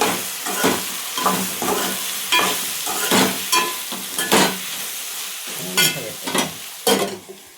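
Brinjal pieces fry in a pan with chilli powder and salt while a spoon stirs them, giving a steady run of close, rhythmic scraping and sizzling strokes with no talking.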